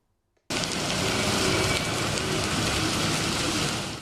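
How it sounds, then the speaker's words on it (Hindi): Heavy rain falls steadily in Peshawar, a dense, loud, continuous hiss of downpour that starts abruptly and holds without a break. "पेशावर में कल रात से बारिश जारी है।"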